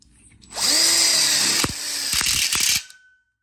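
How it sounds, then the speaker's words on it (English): A power screwdriver drives screws into a ConnecTubes coupler on an outdoor kitchen corner module, a close, loud whirring run lasting a couple of seconds with brief clicking stops near the end. "So first we screw into the coupler, and then we screw in these two."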